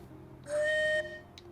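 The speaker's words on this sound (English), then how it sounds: "Whistle horn." A single short whistle-style vehicle horn from the video game Destiny: Rise of Iron, one clear steady tone lasting about half a second against quiet background.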